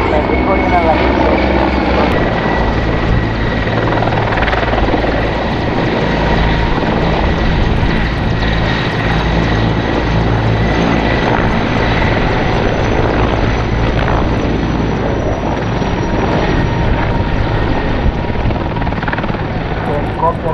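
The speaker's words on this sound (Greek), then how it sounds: "Το ελικόπτερο ΜΑ 65" Greek Air Force military helicopter, an MA 65 type, flying display manoeuvres at an air force celebration, a loud, continuous rotor and turbine roar that stays steady and close throughout while an announcer talks over it.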